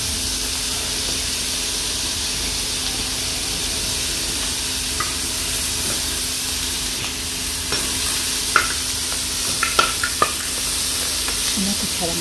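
Onion and other vegetables hit a hot pan with seafood for a saltado de mariscos, giving a steady broadband sizzle throughout with occasional sharper crackles and utensil clinks toward the end, fairly close.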